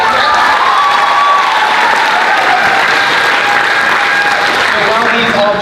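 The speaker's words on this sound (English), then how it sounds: "Let's give them one round of applause." Loud, sustained applause and some cheering from a theater audience for a technical theater crew, with a voice or sustained tone running faintly underneath.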